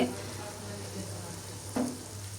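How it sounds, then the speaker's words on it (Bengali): Vegetable bhaji sizzling on the stove, a steady, moderate frying hiss with one brief stir or clatter near the end. "এদিকে আমি চুলায় ভাজি বসিয়েছি"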